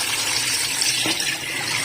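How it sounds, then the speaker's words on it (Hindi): Water gushes steadily into a cooking pot for a biryani, about eight glasses for five of rice, a close, continuous pouring rush with no talk over it. "अब इसमें पानी ऐड कर दूंगी।"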